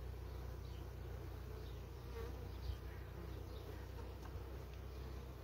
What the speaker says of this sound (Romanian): Aici este multă, multă albină în vârstă.